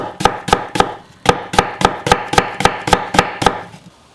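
A knife splitting thick green onion heads on a cutting board while making kimchi: about a dozen sharp, evenly spaced chops, close and loud, then a quiet tail.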